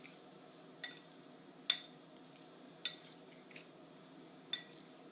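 A utensil stirs seasoning into a crab and shrimp mixture for a Ninja Foodi Grill crab, lobster and shrimp dish, giving five sparse, sharp clinks against the bowl over a quiet background.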